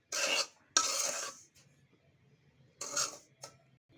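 Half a kilo of semolina scraped and stirred in a pan on the stove while it roasts, giving short raspy bursts of gritty scraping with quiet pauses in between.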